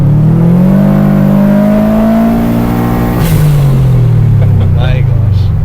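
A tuned Subaru Impreza STi accelerating hard, its engine climbing loudly in pitch through one gear, then dropping briefly at a shift before pulling up again, close and dominant throughout.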